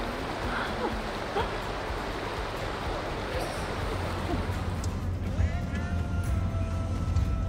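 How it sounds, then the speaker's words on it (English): An overland vehicle crossing a creek, with steady broadband rushing water and splashing under a low engine rumble, continuous throughout at moderate loudness. "we need to cross this creek"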